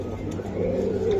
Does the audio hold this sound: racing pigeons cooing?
yes